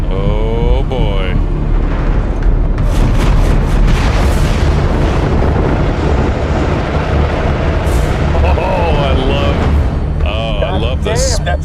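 Torpedo explosions in a space battle from The Expanse, heavy booming blasts and rumbling bursts layered over dense score and effects, with voices talking over the din.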